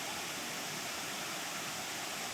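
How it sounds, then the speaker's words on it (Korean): Erawan waterfall in Kanchanaburi's green forest pours steadily, a dense, even rush of falling water that stays constant and fairly close, with no voices. "녹색 숲 사이로 시원하게 떨어지는 폭포를 보고 있으면"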